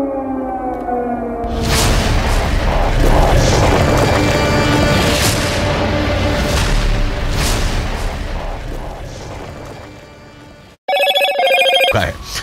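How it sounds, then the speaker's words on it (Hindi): A large explosion from an Israeli air strike on Gaza, captured from a distance, comes through as a loud, sustained roaring rumble laced with wailing siren-like tones, cutting off before a short final burst of noise. "एक बड़ा धमाका जो दूर से ही कैमरे में भी कैद हुआ"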